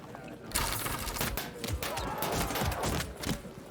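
Dense crackling volley fire from the Field of Glory 2 strategy game, a continuous burst of overlapping shots and rattling impacts lasting a few seconds with no voices over it.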